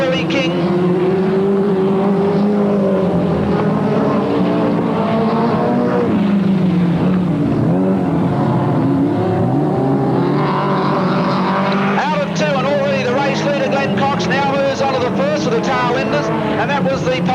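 Speedcars roar past in the field during the 1985 Ray Revell Speedcar Memorial race, a loud continuous engine drone that swells and shifts as the cars file by, with a race commentator talking over it throughout.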